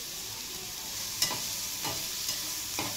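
Onions and tomatoes fry in a pan with a steady close sizzle, broken by three scraping strokes of a spoon stirring them through.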